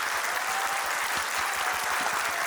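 Warm, sustained applause from guests at a luncheon meeting with Korean expatriates and business representatives in Türkiye. The clapping is even, dense and fairly close, with no talk over it.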